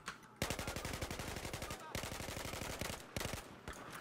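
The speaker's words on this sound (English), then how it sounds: "We're shooting." Gunfire in the video game Battlefield 4 comes as rapid, evenly spaced automatic bursts, loud and close. Brief pauses separate three strings of shots.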